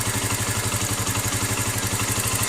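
A small engine fitted with a Nibbi 28mm carburetor idles close by with a steady, rapid chugging pulse and light mechanical clatter.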